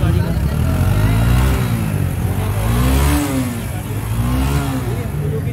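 Suzuki GR 150 motorcycle engine running at a used-bike market in Karachi, rising and falling in steady revs close by, a low harmonic drone with voices talking underneath.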